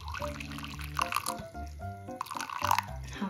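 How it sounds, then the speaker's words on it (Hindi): Warm water poured from a vessel for kneading momo dough, irregular splashing and dripping trickles with clinking in a kitchen, moderately quiet, no talk. "इसको नीट करने के लिए मैं लूंगी गर्म पानी"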